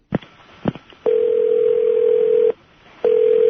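Telephone dial tone on a line being joined to a conference call: two sharp clicks, then a loud steady tone that cuts out briefly and resumes, heard alone without talk.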